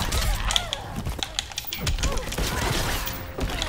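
Cannon fire in the Injustice 2 fighting game, a busy burst of booming shots and impacts repeating throughout amid dense game effects and music.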